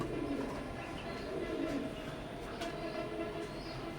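Soft cooing of Teddy pigeon chicks murmurs through a steady low rumble of background noise, continuous and moderately distant, with no voices.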